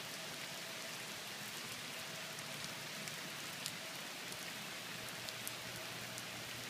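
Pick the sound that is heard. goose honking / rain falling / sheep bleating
rain falling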